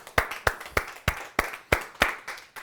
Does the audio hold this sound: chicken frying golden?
no